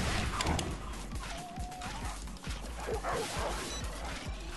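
Dogs in the video game Tokyo Jungle bark and yip repeatedly in a rapid, steady series of short sharp barks over busy game noise, moderately close.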